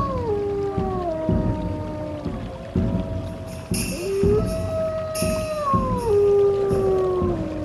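Wolves howl in the wild, several long sliding howls overlapping and rising and falling in pitch, close and loud, with no talking.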